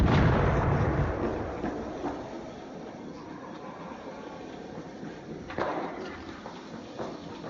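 A grenade blast in a multiplayer shooter game hits loud at the start, then rumbles and decays into a low muffled wash, with a smaller thump later on.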